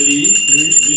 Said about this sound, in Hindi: फिर घंटी लिया